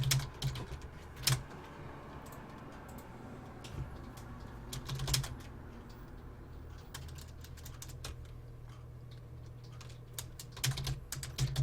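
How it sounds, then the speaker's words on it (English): Fast typing on a computer keyboard, a quick run of fairly quiet key clicks with a few louder, sharper strikes standing out, and no speech. "fingers flying across the keys"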